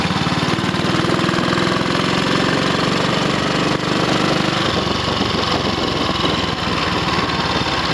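An Ariel 500 motorcycle engine runs steadily and loudly throughout on a test ride, a constant rough mechanical drone with a deep low thump that eases partway through as the bike changes pace.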